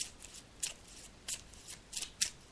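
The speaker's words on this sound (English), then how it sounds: "So I'm just shuffling the cards now" Tarot cards are shuffled by hand in quiet, crisp riffling bursts of a few at a time, spaced irregularly and close to the microphone.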